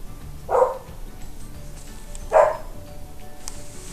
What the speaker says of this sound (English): I know you can hear my dog barking